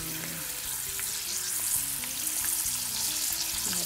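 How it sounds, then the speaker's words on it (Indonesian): Homemade rice crackers (kerupuk nasi) fry in hot oil, giving a dense, continuous sizzle with crackling bubbles and some scattered clicks, close up and fairly loud, with no speech. "Sekarang kita mulai mencoba menggorengnya teman-teman"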